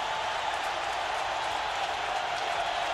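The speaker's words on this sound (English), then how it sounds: "The crowd, crowd's getting back in the game." Stadium crowd at a 1998 Tennessee versus Houston college football game, a sustained roar of cheering and clapping heard from a distance, steady throughout with no distinct voices.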